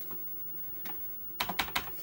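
Commodore 64 keys being pressed: a couple of isolated clacks, then a quick burst of four or five close, crisp keystrokes, fairly quiet over a faint hum.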